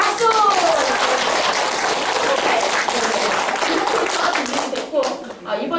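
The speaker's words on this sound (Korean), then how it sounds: "자축 박수!" Group clapping and cheering at a gender-equality committee results-report meeting, a steady burst of applause lasting several seconds with voices calling out underneath, tapering slightly near the end.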